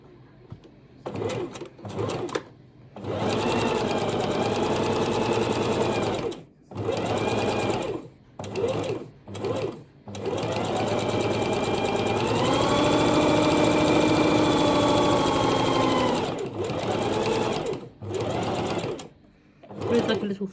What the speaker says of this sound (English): I'll just sew this one up.